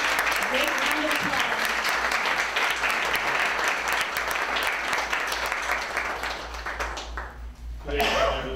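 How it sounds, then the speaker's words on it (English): Sustained audience applause at an award ceremony, dense and steady for most of the stretch, then fading as a voice begins to speak near the end. "So let's give Tom Shoemaker a great round of applause."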